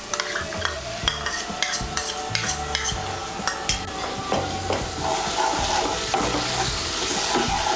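Beaten yogurt being stirred into spice masala in a pan, with repeated spoon scrapes over a soft, steady sizzle, close by and without talk.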